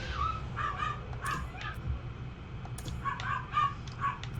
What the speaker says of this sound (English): And the dogs are going nuts for some reason.